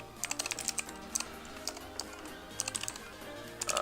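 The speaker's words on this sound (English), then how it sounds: "we can go ahead and type in last guess" Rapid keystrokes on a computer keyboard while typing Java code for a password guesser program, arriving in quick uneven bursts of clicks with short pauses between them, close and clear with no voice.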